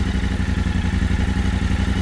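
A 2024 Yamaha Ténéré 700 motorcycle engine runs steadily close by with an even, rapid low throb and light mechanical clatter, no voices over it.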